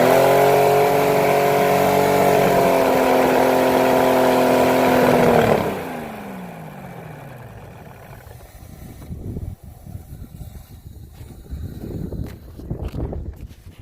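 A Chevy inline-six engine, short on fuel, holds a loud steady rev for several seconds, then drops away and sputters unevenly at a lower pitch with rough bursts.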